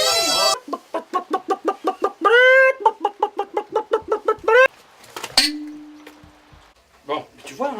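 A chicken clucks in a rapid, rhythmic series of sharp calls, close and loud, with a brief squawk in the middle and a few softer clucks after a pause.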